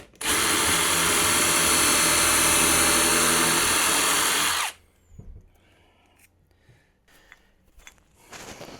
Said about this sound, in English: drill the hole for it.